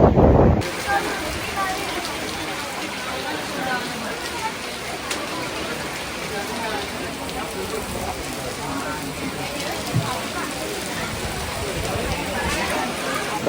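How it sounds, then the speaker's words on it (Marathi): Heavy rain pours down in a sudden downpour. It makes a dense, steady hiss that lasts throughout, and voices can be heard faintly underneath. "पाऊस कोसळतोय. मुसळधार पाऊस पडतोय."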